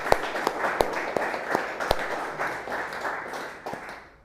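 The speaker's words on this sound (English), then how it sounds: "So another round of applause for Dr. Orlovsky." A conference audience gives a short round of applause, with sparse, distinct claps in a loose rhythm that thin out and fade over a few seconds.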